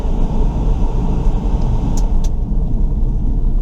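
The engine of a 2002 Toyota Celica GTS with an automatic transmission pulls in first gear toward about 4,000 RPM, heard from inside the car as a loud, steady rumbling drone with no talking.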